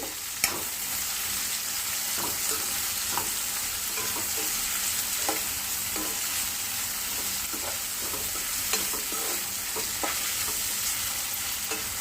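Continuous oil sizzle as bitter gourd pieces fry, punctuated by regular scraping stirs from a spatula in the pan.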